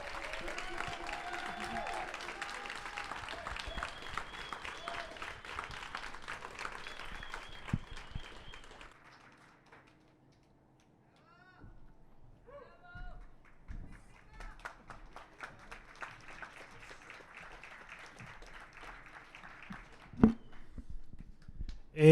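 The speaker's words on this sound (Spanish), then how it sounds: "Un fuerte aplauso" Audience at a book presentation applauding to welcome an author, a soft scattered clapping that fades into a lull, then a second, lighter round of clapping returns later, with a few sharp knocks near the end.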